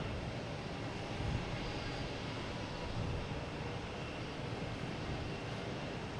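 A Dash 8 turboprop bound for Toronto takes off at Boston Logan Airport, its engines producing a steady, broad roar that holds at an even, moderate level with no voices.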